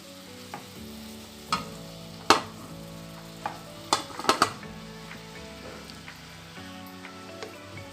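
Green masala chicken pieces frying in a pan, with a steady low sizzle and several sharp clinks of utensils against the pan scattered through it; no one talks.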